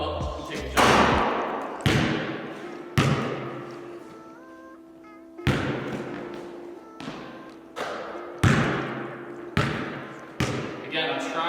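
A basketball bounces repeatedly on a court during shooting practice, each sharp thud echoing in a large gym, arriving in a loose rhythm roughly once a second with a brief squeak in between.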